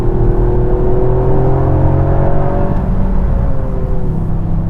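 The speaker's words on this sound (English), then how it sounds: "I love the sound of three-cylinder engines." A three-cylinder Toyota GR Yaris (2020) engine revs up close, its droning pitch climbing smoothly then easing off, with a loud steady rumble throughout.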